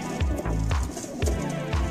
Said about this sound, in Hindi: ये देखें कबूतर देखें, माशाल्लाह सारे अच्छे कबूतर हैं